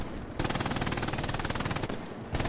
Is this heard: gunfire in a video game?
yes